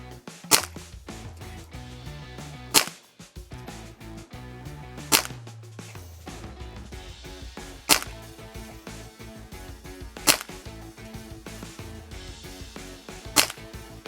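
A Dan Wesson 715 6-inch BB revolver with a Walther sight is fired at targets 10 yards away, giving six sharp, loud cracks spaced a couple of seconds apart with quiet handling noise between them.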